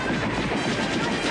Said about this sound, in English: Why is this machine gun making a handgun sound?